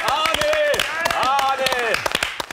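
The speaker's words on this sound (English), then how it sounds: "A big round of applause, Woo! Ladies and gentlemen, for Arnold Schwarzenegger." Studio clapping greets Arnold Schwarzenegger, with sharp, close hand claps under loud whooping and cheering voices in a lively broadcast setting.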